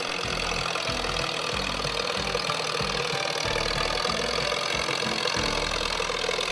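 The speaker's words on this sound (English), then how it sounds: "Engine sounds really good." A loud antique tractor engine chugs and knocks steadily while pulling weight at a county fair tractor pull, deep rhythmic thumping under a constant rumble, close by with no talking.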